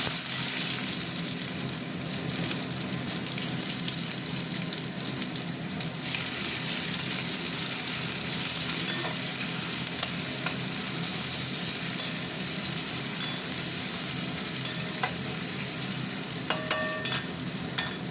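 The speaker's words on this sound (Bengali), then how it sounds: "পেঁয়াজটা একটু ভাজা ভাজা হোক" Onions frying in a pan make a steady, even sizzle that holds for the whole stretch, with a few light clicks and scrapes toward the end.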